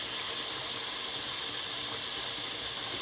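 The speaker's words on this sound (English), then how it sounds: "This is rinsing number 3, and you can already see the water going from cloudy to clear." Tap water running steadily while rice is rinsed in a sink, a loud, even, hissing stream lasting throughout with no talk.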